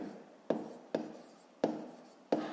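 Pen on paper while numbers are worked out for a maths exercise: four evenly spaced soft taps, each trailing into a faint scratchy stroke, quiet and close.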